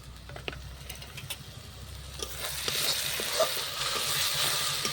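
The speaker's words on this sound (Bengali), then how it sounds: "মশলাটা খুব সুন্দর করে ভাজি আগে যেহেতু পেঁয়াজ আদা রসুন সব কিছু একসাথে আছে" Masala of onion, ginger and garlic frying in a pan on a fire-fed clay stove, a steady sizzle with a few crackles and stirring scrapes, growing louder and hissier midway.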